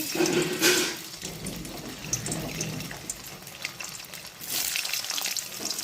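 Paneer pieces fry in hot oil in a home kitchen, a fairly faint sizzle that surges in watery bursts near the start and again toward the end, with no talking.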